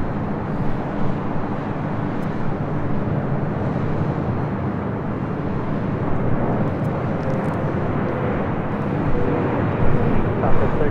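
An Eva Air Boeing 777 airliner at LAX gives off a broad, steady jet rumble at moderate distance, swelling slightly near the end, while someone talks over it.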